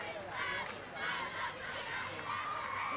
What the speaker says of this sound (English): A pretty good crowd on hand tonight